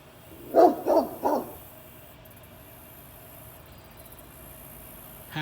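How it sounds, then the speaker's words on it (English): Neighbor's dog barking in a backyard garden: three distinct barks in quick succession, somewhat distant, followed by quiet outdoor ambience. "The neighbor's dog barks a lot."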